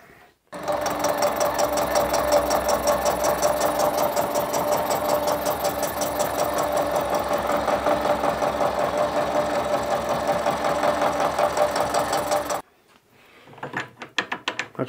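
A machine tool takes a fine cut on a parting blade holder, a steady loud mechanical whir with rapid rhythmic ticking that runs for about twelve seconds and then stops abruptly, leaving a few faint clicks.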